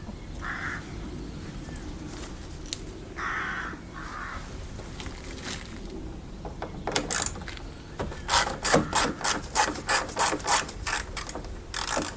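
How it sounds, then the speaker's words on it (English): A screw is worked out of the front end panel (lock carrier) of a Mk1 Skoda Fabia (1999–2007), with faint tool clicks and rubbing followed by a louder burst of rapid ratcheting clicks close by, no talk. "be careful taking the top right screw out"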